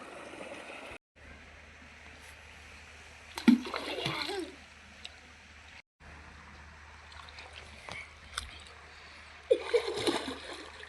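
A boy bathes in a small water tank, with sharp splashes at two moments over a steady low background of moving water. No voices are heard.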